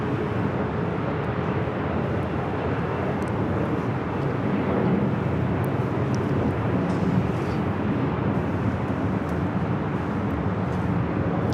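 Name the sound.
Delta Airlines 737-900ER jet taking off at LAX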